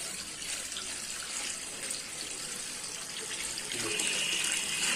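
Water runs from a faucet into a sink while leafy greens for saag are washed, a steady hissing splash that grows slightly louder toward the end, with no speech.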